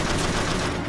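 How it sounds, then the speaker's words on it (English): A dense burst of rapid video game gunfire fills the whole instant, loud and continuous with no pause between shots. "Ah, who's shooting now?"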